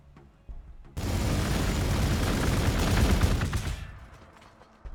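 Grenades burst in the Warhammer 40k: Gladius strategy game as a dense, roaring barrage of explosive blasts lasting several seconds, loud and close, then fading out.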